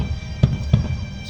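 Fireworks display at Mall of Asia: muffled distant booms thump at irregular intervals, about three in quick succession, over a low rumbling background.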